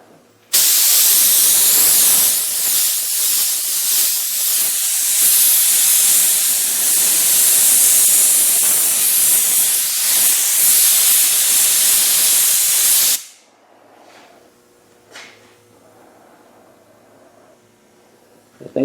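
Steady, loud spray-gun hiss laying base coat on 1979 AMF Harley Davidson Sportster parts, running continuously for about thirteen seconds before cutting off abruptly into a quiet room with faint clicks.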